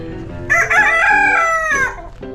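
A rooster crows inside a chicken coop, one full crow close and loud, rising after a brief lead-in and trailing off, with faint clucks from nearby fowl.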